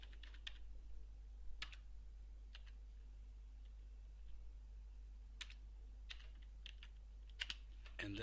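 A name is typed on a computer keyboard at a CNC bending controller, heard as sparse, quiet key clicks in short irregular bursts over a faint steady hum.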